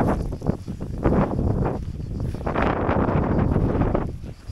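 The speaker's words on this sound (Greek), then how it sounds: "έχει άνεμο" Wind gusts buffet the microphone on a beach in Chalkidiki during a canoe trip, rough low rumbling surges that rise and fall over a few seconds.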